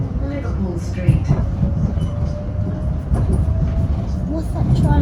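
A train bound for Liverpool Street in London rumbles steadily from inside a carriage, a loud low continuous roar with faint rattles and a brief whining tone, while voices talk over it.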